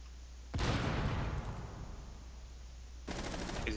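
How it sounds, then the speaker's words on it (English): In Rainbow Six Siege a grenade goes off with a sudden loud burst, followed by sustained rattling gunfire that fades slightly before another sharp burst of shots near the end. "Look out, he threw a grenade."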